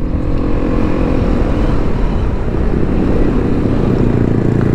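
A Yamaha Xmax scooter fitted with a Veloscope and a fresh CVT filter pulls away, its engine a loud, close, continuous drone that holds steady for several seconds with no talking.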